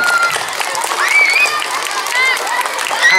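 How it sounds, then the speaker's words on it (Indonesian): A young children's audience at a storytelling festival claps and cheers in a busy, lively burst, with high children's voices calling out over the applause throughout. "Tepuk tangan dulu dong buat kalian."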